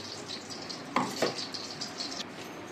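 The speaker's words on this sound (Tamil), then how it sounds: "வெங்காயம் ஒரு பெரிய சைஸ் வெங்காயம் 2 நல்லா வதங்கட்டும்" Onions sauté in a pan with a steady soft sizzle, punctuated by two quick stirring scrapes of a utensil early on.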